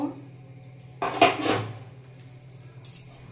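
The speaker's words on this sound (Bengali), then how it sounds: "এবার আমি ঢাকাটা খুলে নামিয়ে নেব।" A metal lid comes off a cooking pot and the pot is lifted from the stove: a single clattering clank after a quiet stretch, then faint scraping and light knocks.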